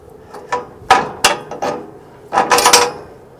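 A bolt being worked out of the linkage on a Q-Catch cattle chute, several sharp metallic clanks and knocks in uneven bursts, close by, with a cluster of rattling hits near the end.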